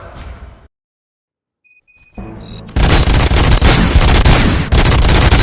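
Gunfire from a RoboCop film scene: after a brief silence and some electronic tones, a loud, dense burst of shots and booms runs continuously to the end.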